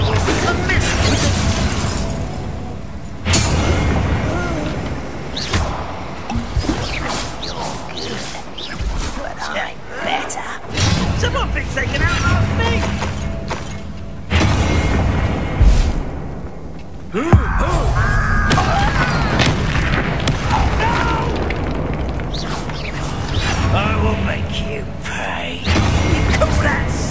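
Confringo blasting spells explode repeatedly during combat in Hogwarts Legacy, loud bursts layered with clashing effects, music and a voice speaking over the action.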